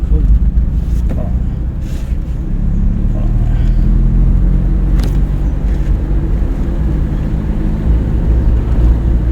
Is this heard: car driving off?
yes